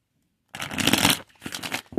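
After a moment of silence, a deck of playing cards is riffle-shuffled in two quick, crisp bursts close to the microphone.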